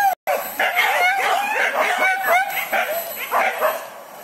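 Dog barking and yipping in a rapid, continuous run of sharp high calls, loud and close, with people speaking in the background.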